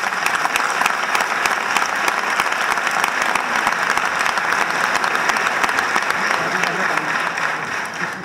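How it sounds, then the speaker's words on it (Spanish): Sustained applause from a concert audience at a Christmas youth band concert, dense, even clapping that fills the room and tapers slightly at the end, with a voice faintly present. "me gustaría que el primer aplauso de la noche fuera para todos mis compañeros"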